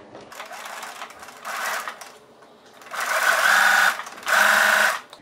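A sewing machine stitches a second parallel seam line about 0.8 cm from the first on dress fabric, running in three close, steady whirring bursts with short pauses between, the last two louder.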